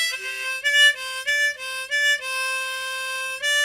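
Thin, reedy single harmonica notes played with a puckered embouchure, a few short phrases of sustained tones with clear gaps between them, close and alone.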